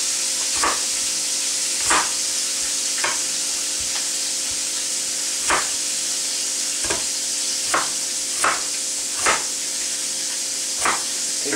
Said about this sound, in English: I've got some potatoes in there I'm frying up.